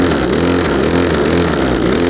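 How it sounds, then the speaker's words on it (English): A small petrol engine on a LRH270K, running with the choke on, gets a short rev to warm it up, giving a loud, steady, close buzzing drone. "And then a little rev to warm the engine."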